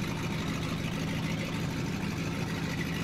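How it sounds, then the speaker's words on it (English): In Farming Simulator 17, a tractor engine drones at an even, steady pitch, a close, continuous mid-range hum with no changes in revving and no talk over it. "if you listen to the engine in this, it actually reminds me more of a gasoline engine than it does a diesel."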